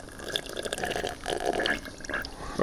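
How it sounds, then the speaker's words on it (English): Bubbles blown into a glass of drinking water give a brief, fairly close gurgle of liquid with soft splashy drips, continuing unevenly for a few seconds with no talk. "Are you blowing bubbles?"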